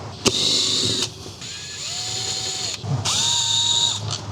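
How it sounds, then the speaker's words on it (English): An electric drill removes the dashboard bolts from a Bar Crusher boat's centre console, with several separate bursts of whirring motor and a steady whine in between, loud and close, with no talking. "today I'm going to cheat and use my electric drill."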